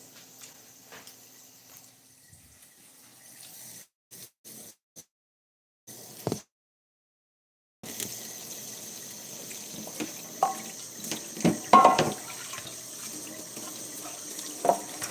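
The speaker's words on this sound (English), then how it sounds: "washing this out real quick" Something rinsed out under a running tap, quiet at first with brief gaps and a silent pause, then a louder splashing flow of water against a sink.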